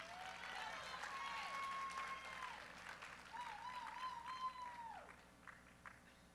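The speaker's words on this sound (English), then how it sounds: "Let's get another round of applause to these ladies." Audience at a collegiate powerlifting national championship claps and cheers for medal winners, sustained applause that swells and then fades over several seconds, with an announcer speaking over it.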